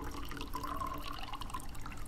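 Water running into a coffee maker's reservoir in a video game, a quiet, steady trickling pour with a thin ringing tone partway through, heard alone.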